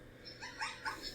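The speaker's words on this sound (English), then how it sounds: "Zebra." A zebra recording plays from a phone speaker into a nearby microphone, giving a few short barking, yelping calls over about a second, followed by a sharp knock at the end.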